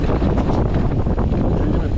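Strong wind blows across the microphone on a red-graded ski run, a loud, steady, roaring rush with no speech.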